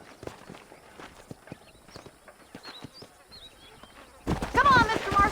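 Horse hooves clip-clop in the Red Dead Redemption video game, a fairly quiet, regular trot of distinct hoof taps alongside faint chirping ambience, ending in a sudden louder rush of noise.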